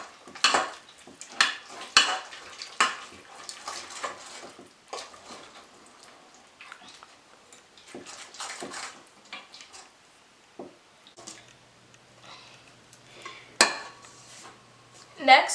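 A spoon stirs vanilla extract into a pecan pie filling in a bowl, with intermittent clinks and scrapes of utensil against dish, some louder knocks near the end.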